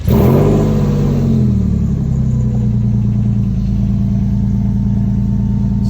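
A race car with 82,000 original miles starts up and revs, settling into a loud, steady low rumble with a rising rev early on.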